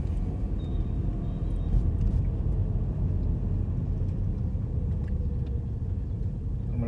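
Car rolling slowly around a car park on a loop, a steady low engine and road rumble heard from inside, even and unbroken with no talking.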